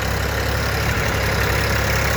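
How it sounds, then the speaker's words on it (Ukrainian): A small M385 engine, under test for a municipal tractor, idles steadily nearby, a low continuous rumble with a faint knocking throb and no voices. "Двигунка М385. Завод фільма."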